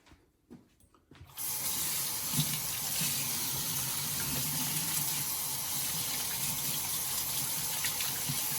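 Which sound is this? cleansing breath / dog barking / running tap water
running tap water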